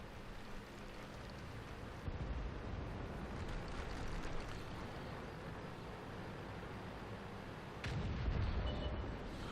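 Tank guns fire in a World of Tanks battle. Rumbling cannon blasts boom at about two and eight seconds over continuous low battlefield noise, with no talk.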